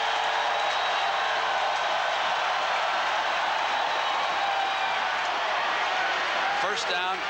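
Massive college football stadium crowd roaring at Clemson's Death Valley during a 1988 Florida State game, a steady dense wall of loud cheering throughout with a broadcaster talking over it.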